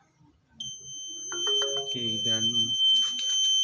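A flood monitoring system's warning buzzer sounds a steady, high-pitched electronic tone continuously from start to end, with someone speaking over it partway through.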